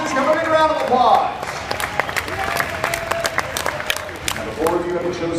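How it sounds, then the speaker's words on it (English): A theme park crowd at a live stunt show applauds four contestants, steady clapping with scattered sharp claps and some cheering while a voice talks over it at the start and end. "Come with a round of applause."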